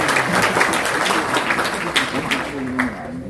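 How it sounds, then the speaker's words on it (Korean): An audience at a book concert for a political book launch gives broadband applause to welcome a speaker, steady and dense for about three seconds with a faint voice or tone underneath near the end. "뜨거운 박수로 모시겠습니다."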